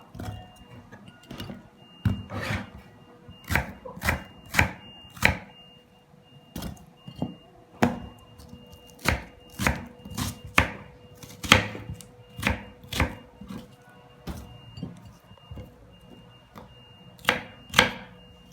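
A knife chops onion into large pieces on a board, giving sharp, separate thuds at an uneven, unhurried pace, roughly one every second, close and clear with no voices.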